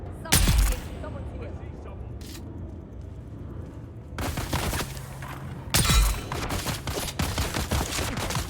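Sniper rifle shots in a sandy desert video game, two loud sharp cracks with echoing tails a few seconds apart, ringing out over steady background game ambience while a voice talks.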